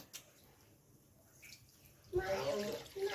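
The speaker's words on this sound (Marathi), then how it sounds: "एक ग्लास पाणी टाकू" A glass of water pours into a pan of oil and masala for Maggi noodles, a sudden splashing gush near the end after a quieter stretch of faint kitchen clatter.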